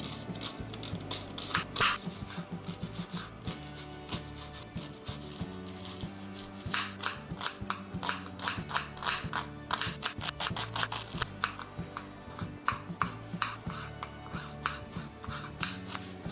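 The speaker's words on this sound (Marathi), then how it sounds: "दोन कांदे दोन टोमॅटो घेतले आहेत याला आपण बारीक कट करून घेऊया" A knife finely chops onions and tomatoes on a board for a masala, giving a steady run of quick, close taps and scrapes at moderate loudness with no talking.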